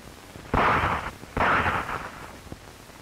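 Two loud gunshot-like blasts from a 1962 Cantonese film, each a sharp crack with a broad, roaring decay. They sound about a second apart, followed by a faint click and no speech.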